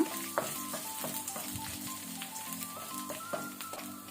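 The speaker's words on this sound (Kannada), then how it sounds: "ಬೆಳ್ಳುಳ್ಳಿ ಲೈಟ್ ಕೆಂಪಾಗಲಿ ಅಲ್ಲಿ ತನಕ ಫ್ರೈ ಮಾಡ್ಕೊಳ್ಳುವ" Garlic crackles and sizzles in hot oil while cooking pepper chicken wings, a steady bubbling fry with small pops and faint tonal ringing in the background.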